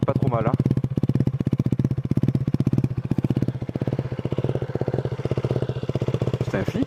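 A modified exhaust on a 2016 KTM Duke 125 motorcycle idles close by with a fast, steady, uneven putter and occasional crackle, while someone talks briefly over it near the start and again at the end.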